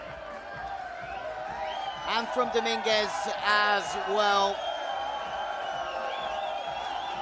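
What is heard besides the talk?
crowd cheering at a padel match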